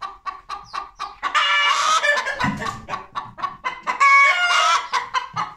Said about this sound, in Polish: jedna kura zaczęła gdakać i już większość kur